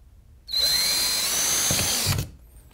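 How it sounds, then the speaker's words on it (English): A power drill bores a hole in a fan through a template while building an airbrush kit, giving one loud, steady high whine that starts abruptly, runs nearly two seconds and cuts off. "you're just going to drill a hole right inside the hole that's in your template"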